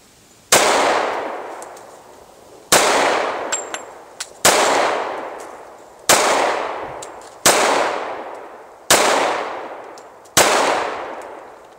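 Seven sharp shots from a Kimber 1911 pistol strike steel plates outdoors, each a loud crack with a bright metallic ring that fades, spaced about one to two seconds apart.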